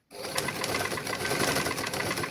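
A sewing machine starts up abruptly and stitches a pillowcase with a fast, even mechanical whir and needle clatter, heard close and alone without speech.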